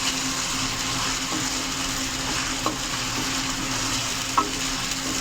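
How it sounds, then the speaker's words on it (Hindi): Chicken pieces with onion fry over high heat in a pot for a village-style degi aloo chicken curry, producing a steady, close sizzle and bubbling with a few faint clinks of stirring, with no talking. "अब आंच इसके नीचे थोड़ी तेज़ कर देंगे ताकि हमारा चिकन जो है अच्छी तरह भुन जाए इसके अंदर"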